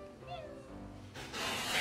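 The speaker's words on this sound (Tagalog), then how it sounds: "Yung tinuruan mo mag-meow, yung aso nyong cute." A small dog answers a coaxing voice with a short meow-like vocal whine, followed by a louder burst of noise near the end.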